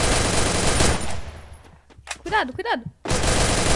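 Rapid automatic gunfire from the Free Fire battle royale video game, loud dense bursts at the start and again at the end, with a short warning voice in the lull between them.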